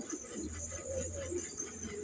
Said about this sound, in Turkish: Şu an iki erkek iki yandan ötüyor hayvan